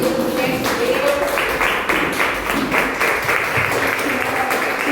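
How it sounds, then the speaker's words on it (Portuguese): A church congregation applauds steadily throughout, with dense sustained clapping and some voices mixed in under the noise. "Vamos aplaudir essa mulher maravilhosa."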